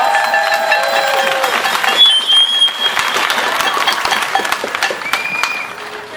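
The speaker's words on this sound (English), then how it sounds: "So give him a big round of applause." Audience at a Derry rally for Palestine applauds as a speaker is introduced to read a poem: loud, close clapping with some cheering and whistles that gradually thins out toward the end.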